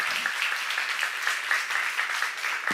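A church congregation claps together during a sermon, producing a brief, steady wash of applause that fills the room evenly from start to finish.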